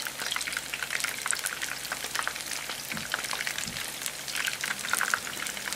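Tempura vegetables deep frying in hot oil at home give a steady, dense crackle and sizzle that runs unbroken throughout, fairly close and alone with no voices.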